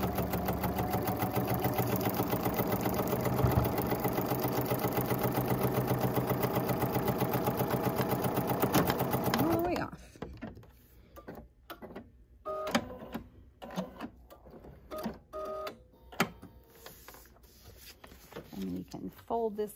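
Sewing machine stitching a quilt block at a 1.5 stitch length, a loud steady mechanical whir for about ten seconds, then stopping into short bursts of handling clicks and movement.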